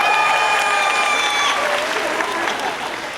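Audience applause at an outdoor bird show at Disney's Animal Kingdom, a steady wash of clapping from the crowd with a few cheers mixed in, lasting the full stretch and fading slightly toward the end.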